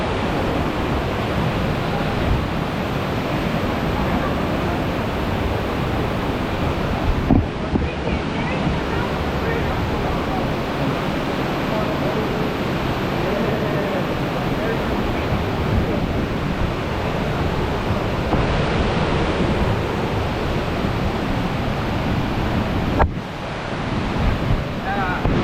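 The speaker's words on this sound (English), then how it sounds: "We're exiting the waterfall." Roaring rush of La Leona waterfall in Costa Rica, a loud broadband wash of falling water that runs continuously with brief wind buffeting on the microphone.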